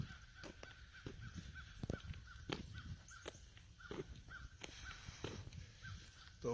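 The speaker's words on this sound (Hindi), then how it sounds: "इतनी ठंड में भी ये कौवा काय कर रहा है।" A crow caws repeatedly outdoors in freezing cold with snow-covered trees, giving sharp, evenly spaced calls at moderate distance over a faint background hiss.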